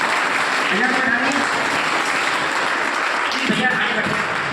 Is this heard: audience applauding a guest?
yes